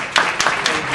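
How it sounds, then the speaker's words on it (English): Audience applause at a launch ceremony in New York City, a brief burst of clapping with a few sharp, evenly spaced peaks standing out from the crowd's wash of hand claps. "Let's give a big round of applause for Mr. Ravi Batra ji."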